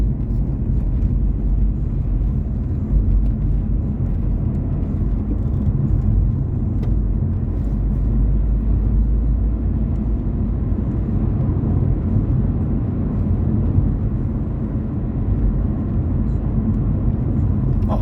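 A Dacia Duster's 1332 cc four-cylinder petrol engine drones steadily as the car drives, a continuous low rumble with road noise and no voices.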